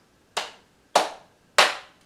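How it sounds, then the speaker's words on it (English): Three crisp hand claps at an even pace, close and clear against quiet, during a children's summer story time chant. "We're going to start with clapping."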